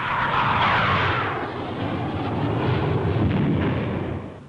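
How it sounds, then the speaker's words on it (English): Low explosive practice bombs dropped by Jaguar strike jets burst on a bombing range in Germany, a loud rolling rumble of blasts mixed with aircraft roar, swelling and easing over several seconds before fading. "For range practice here in Germany, bombs of low explosive charge are enough to prove the accuracy of both pilot and plane."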